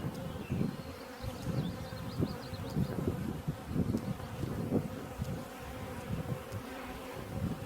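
Dense, steady buzzing of honey bees swarming around a hive frame that holds queen cells and brood, close and continuous throughout with no talking.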